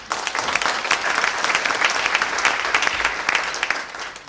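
Audience applause at a Germanwatch welcome address, a steady even patter of many hands clapping together at a constant level throughout.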